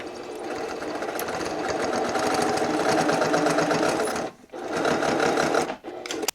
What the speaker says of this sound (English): we're going to stitch 1/4 of an inch along this line only